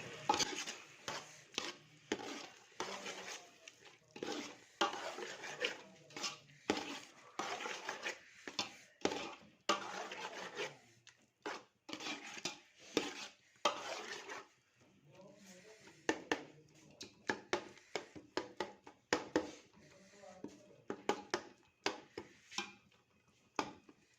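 Bottle gourd and ridge gourd (ghiya tori) are stirred in a cooking pan: a spoon makes repeated uneven scraping and clinking strokes, fairly quiet and close, with short pauses between bursts.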